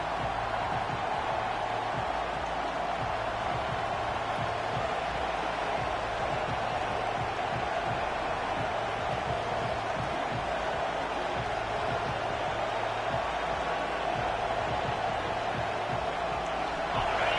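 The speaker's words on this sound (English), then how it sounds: "This crowd trying to show them what it's going to be like all day in this house." Steady stadium crowd roar from a Madden 23 American football game, a broad continuous wash of noise held at an even level throughout, with a faint repeating low tone underneath.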